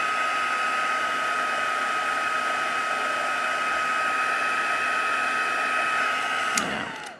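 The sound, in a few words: heat tool drying ink on low heat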